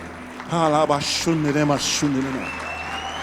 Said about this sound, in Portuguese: vamos aplaudir, continuar aplaudindo ao Senhor